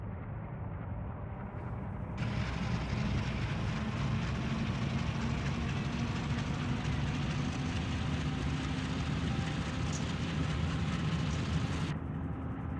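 Train locomotive in the Run 8 train simulator game powering up under throttle on an autorack train at Cajon Pass, a steady low diesel rumble that swells louder after a couple of seconds and holds evenly.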